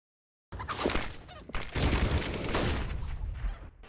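A flashbang grenade bursts in a first-person shooter game, a sudden loud blast that spills into a dense crackling, ringing wash of game noise lasting a few seconds after a moment of silence.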